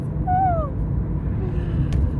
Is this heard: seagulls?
yes